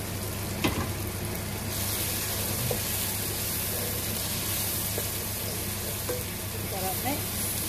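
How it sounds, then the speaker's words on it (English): Prawn curry with finely chopped green chilies sizzles steadily in a frying pan, a continuous close frying hiss with occasional louder pops and spatters, and no talking. "You can see it's sizzling away."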